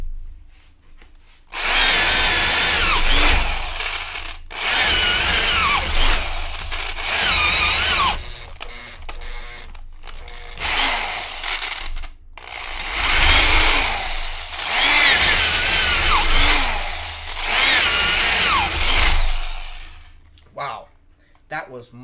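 A cheap corded drill running at 1200 RPM bores through wood in two long, loud grinding bursts, with a pause between them and quieter handling at either end.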